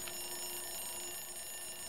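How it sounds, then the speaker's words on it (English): An alarm clock rings in the video game Cleaning Madness 3, a continuous bright metallic ringing that stays loud and steady throughout without pause, with no voices over it. "Why is this alarm going off already?"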